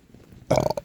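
A man's single abrupt hiccup, close and fairly loud, a short throaty burst with a brief tail following a quiet moment.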